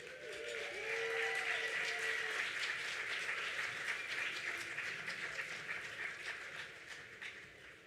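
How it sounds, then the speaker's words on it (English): An audience at a gala applauds in a steady, dense wash of clapping that holds for several seconds and slowly tapers, somewhat distant, with a brief musical tone at the start. "Please help me welcome to the stage, big round of applause, ECS Board President Jessica Ripper."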